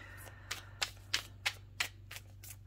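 Tarot cards being shuffled by hand, seven sharp riffling bursts at a steady pace, close and crisp against a low background hum.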